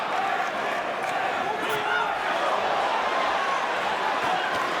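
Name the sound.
boxing crowd cheering at title fight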